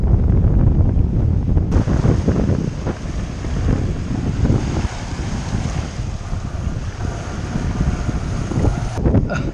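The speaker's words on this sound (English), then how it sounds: "Cuz the winds are so strong." A strong storm wind roars over a sailboat, buffeting the microphone loudly and constantly, with water and waves rushing around the hull beneath the gusts.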